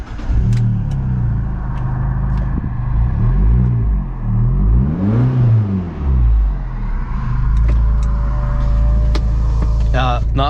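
An Abarth 695 Edizione Maserati small car engine revs up and down several times, loud and close, with a deep rumbling tone rising and falling over a steady idle.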